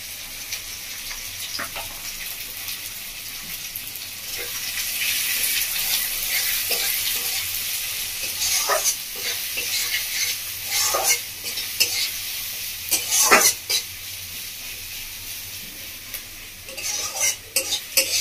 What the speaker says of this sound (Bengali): পেঁয়াজটা আমি এইভাবে ভেজে নেব।